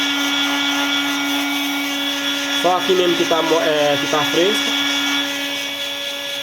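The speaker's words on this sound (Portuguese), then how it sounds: "O soprador tem que ficar sempre nesse movimento." A heat gun blower drying a silkscreen frame gives a loud, steady whirring hum with a constant high whine throughout, while someone speaks briefly over it.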